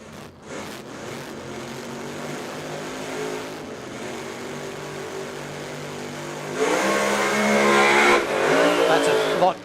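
A drag race car launches at a Queensland drag racing event at Willowbank Raceway, its engine roaring loud and continuous, building to a harsher, louder burst of revving and tire spin near the end, with a commentator's voice over it.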